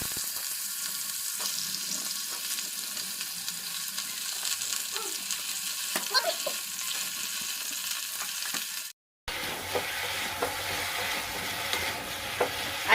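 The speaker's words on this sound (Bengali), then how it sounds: "এটা শুধু তেলের উপরে সব সবজিটা দিয়ে একটু এটা ভাজা ভাজা হোক।" Mixed vegetables sizzle steadily in hot oil in a pan with a dried red chilli and no water, while a utensil stirs them occasionally. There is a short break in the sound before the frying resumes.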